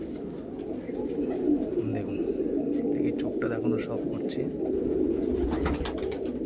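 Pigeons, including a male with deep-set golden eyes, coo softly in a loft, their low murmurs running steadily beneath someone speaking close by throughout.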